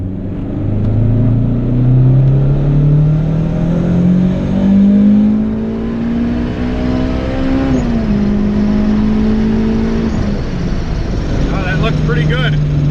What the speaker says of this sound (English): So I'll hit it in third gear.